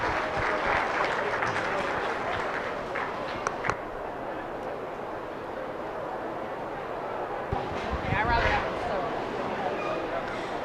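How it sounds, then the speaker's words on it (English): Audience applause at a 4-H/FFA beef showmanship and steer show, a steady wash of clapping sustained throughout in a large arena, with crowd noise, a few brief louder spots and some talk mixed in. "Let's give her a nice round of applause."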